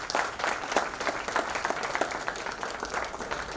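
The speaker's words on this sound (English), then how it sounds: "Can we have a round of applause" A conference audience at IMSACON 2023 gives the guests of honor a dense, lively round of applause, many hands clapping at close range for several seconds.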